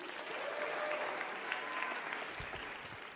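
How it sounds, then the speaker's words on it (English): Steady applause from an audience at a national Bible-knowledge competition's closing ceremony, dense and continuous clapping throughout, moderately near. "Give a round of applause for Avi Shaver"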